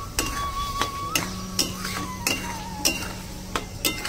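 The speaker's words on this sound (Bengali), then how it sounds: "এবারে দিয়ে আমি ভালো করে একদম কষিয়ে নেবো ভালো করে" Onion, ginger and garlic paste stirred and fried in a pan, with a steady low sizzle under repeated clinks and scrapes of a spoon against the pan at an uneven rhythm, close up and without talk.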